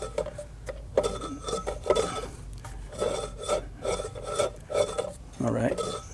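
A 1930 Briggs FH small engine turned over by hand, its internals giving a faint intermittent scraping rub, soft rasping strokes recurring irregularly with light metallic clinks and low handling noise.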